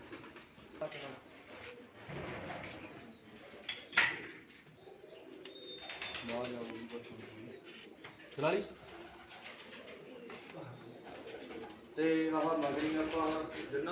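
Pigeons coo softly in the background while being given medicine, with low rolling calls under a busy mix of nearby voices and handling noises.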